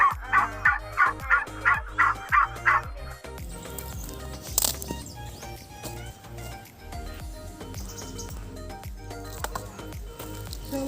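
Farm chickens clucking and calling in a rural Philippine yard, a rhythmic run of loud clucks first, then a busier, steady mix of fowl noises continuing throughout.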